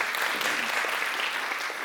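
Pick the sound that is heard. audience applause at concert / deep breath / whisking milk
audience applause at concert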